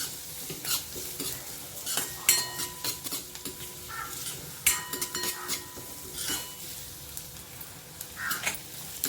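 Chopped onion sizzles in hot oil with asafoetida as puri bhaji masala cooks, a soft steady frying hiss broken by repeated scrapes and clinks of a spoon stirring against the pan, close and unaccompanied by talk.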